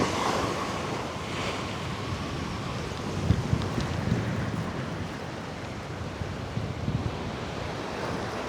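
Sea waves surge and break on the shingle shore at Folkestone Warren, a steady broadband roar with gusting wind buffeting the microphone and louder wash peaks toward the middle.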